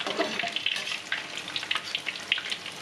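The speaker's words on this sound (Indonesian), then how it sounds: "Kalau sudah mendidih baru masuk gorengan itu." Vegetable fritters (bakwan sayur) frying in hot, boiling oil give a steady, close sizzle with crackling pops and bubbling spatters throughout, with no voices.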